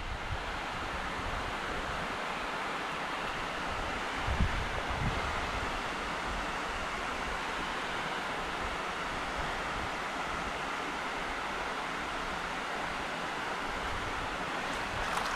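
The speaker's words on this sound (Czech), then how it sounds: "Jak tady hučí ten jez" Steady, dense roar of water pouring over a river weir, constant and enveloping with a soft wind-like rush and no voices, unchanging throughout.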